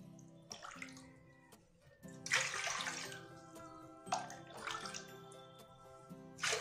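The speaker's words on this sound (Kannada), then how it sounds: "6 ಕಪ್ನಷ್ಟು ನೀರು ಹಾಕೊಳ್ತಾ ಇದ್ದೀನಿ" Water is poured from a cup into a cooking vessel, six cupfuls in all, for sago sandige, heard as several close splashing pours separated by short pauses, with no talking.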